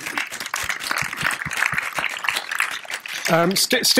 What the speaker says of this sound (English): So let's give a round of applause to Steve